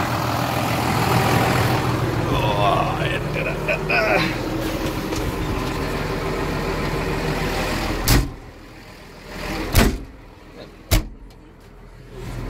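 A tractor pulling a subsoiler runs with a steady low engine drone and rumble that fills the first eight seconds, then drops to a quieter idle broken by a few sharp knocks and clunks.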